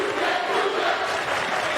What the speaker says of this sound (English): Student section just reminding her it's a violation